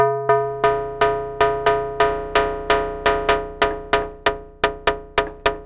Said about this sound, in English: maybe that's an interesting kind of snare